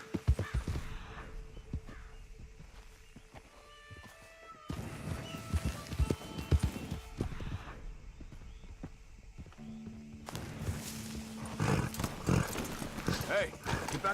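Horse hooves clip-clop in Red Dead Redemption 2, a steady walking rhythm heard mostly under people talking, with ambient outdoor game sound throughout.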